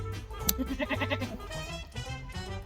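A homestead goat bleats in a loud, wavering cry, followed by a couple of shorter bleats, close and with no talk over it.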